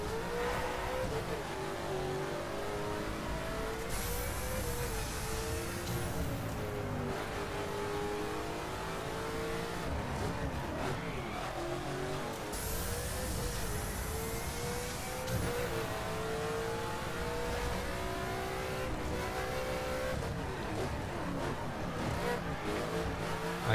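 Race cars lapping a track in The Crew video game, engines roaring and revving continuously with shifting pitch, sustained and loud throughout with no break.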